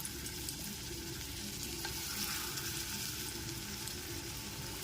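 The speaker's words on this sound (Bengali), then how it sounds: "তেলটা খুব ভালো মতো গরম হয়ে গেলে পরে এর মধ্যে কোপ্তাগুলোকে ছেড়ে দিচ্ছি" Raw banana koftas fry in hot mustard oil, giving a dense, continuous sizzling hiss at a steady level with no talking.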